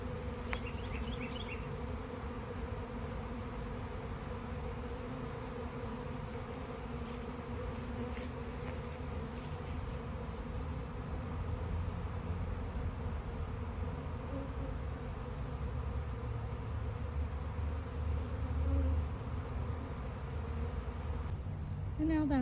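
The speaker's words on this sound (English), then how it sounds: "Look how many are interested in this back entrance." Dense, steady buzzing of a large honey bee swarm gathering at the back entrance of a hive, a continuous close drone of many wings that holds throughout.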